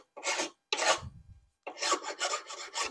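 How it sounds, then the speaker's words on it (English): A fine file with one rounded side rasps against the wiper bay of a C3 Corvette, in three bursts of scraping strokes, the last long and steady, with a low rub between and no talk. "You also want to have one of these files with a rounded side so you can actually get in there"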